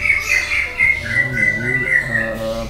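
A magpie-robin sings a continuous, varied melody of whistled phrases up close, with a low hum and faint background noise underneath.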